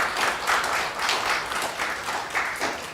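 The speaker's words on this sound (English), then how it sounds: "So I would ask everyone to give her a round of applause." An audience gives a round of applause at a public event honoring a woman, sustained clapping swelling in uneven waves for the full few seconds.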